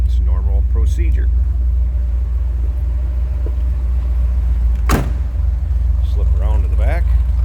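Idling 1974 Chevrolet Corvette convertible with an L82 engine, a loud continuous low rumble throughout, with someone talking over it and a sharp brief knock near the middle.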